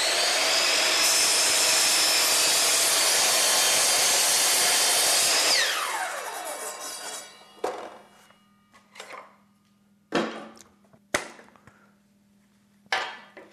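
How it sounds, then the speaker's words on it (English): A miter saw cuts wood casing at a 35-degree angle, a loud steady whine that winds down after about five seconds, followed by several sharp knocks and clatters of wood being handled. "Now I'm going to cut this 35 degree angle and we'll make a miter."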